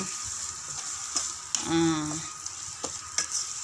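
Ground pork sizzles in a hot pan while a utensil stirs and scrapes through it in a few sharp clacks, with a short tonal squeak partway through; close and fairly quiet, no talk.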